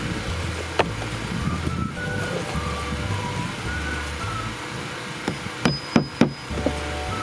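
Hammer driving regular roofing nails into a reused slate roof tile outdoors, a few sharp close knocks near the end after a stretch of quiet rustling and distant background rumble.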